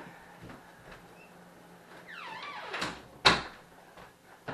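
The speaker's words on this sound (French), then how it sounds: "Je vais fermer la porte." A door is pushed shut in a room at home with a creaking swing, then closes with a sharp, loud thud, and a softer knock follows; quiet background otherwise, no speech.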